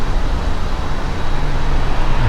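Another road car passes at moderate level, a continuous low rumbling wash of tyre and engine noise that swells slightly near the end, with no voices.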